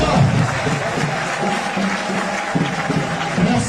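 A crowd applauding and cheering, a steady dense wash of clapping that holds loud throughout with a faint murmur of voices mixed in.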